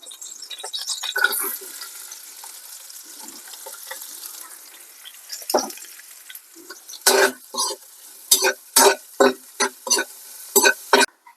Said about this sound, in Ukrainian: починаємо смажити цибулю